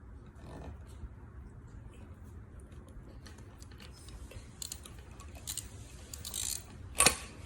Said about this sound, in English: you get the little silver screw that you had, and you screw it back into the gun